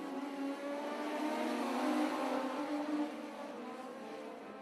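Pack of Legends race cars roaring off at the start of a dirt-track heat race at 141 Speedway, a dense, distant engine drone swelling then easing slightly.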